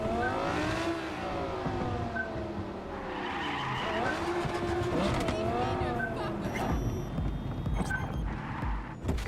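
Car engine in Cyberpunk 2077 revving and shifting through gears as it drives, with tyre squeal and skidding, steady and close, under game music and a voice talking.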